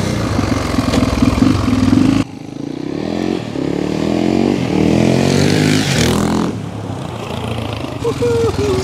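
A 1993 Husqvarna 610WXC motorcycle engine roars and revs on a ride, loud and close, with throttle swells and a brief drop near the start, while someone talks over it.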